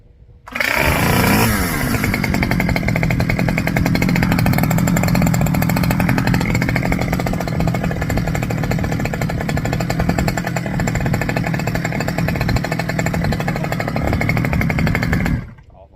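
A Stihl 011 AVT chainsaw starts and idles loudly and steadily in a rough, buzzing two-stroke drone close by, running evenly for about fourteen seconds before cutting off.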